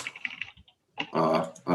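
Quick clicks of typing on a computer keyboard, soft and close, in short bursts broken by a pause, with a tonal, voice-like sound rising near the end.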